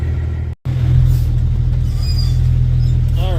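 A dirt-hauling truck idles and rumbles close by with a steady low engine drone as it pulls in for another load, with a brief dropout near the start.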